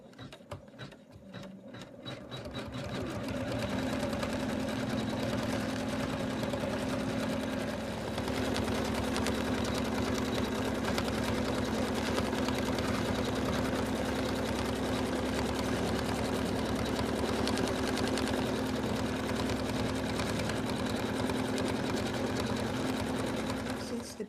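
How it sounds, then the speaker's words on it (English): Embroidery machine stitching stippled quilting on a snowman Christmas stocking, a steady rapid mechanical whir with fine rhythmic needle clatter running continuously at close range, with no voice over it. "Next it's going to do the stippling, so the quilting."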